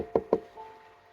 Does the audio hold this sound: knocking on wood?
yes